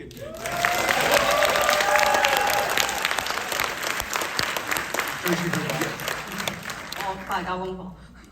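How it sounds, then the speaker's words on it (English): A film festival audience at the Walter Reade Theater in New York applauds after a screening of Love Lies, a dense, full burst of clapping that slowly thins, with voices talking over it and some tonal sounds near the end. "maybe clap back"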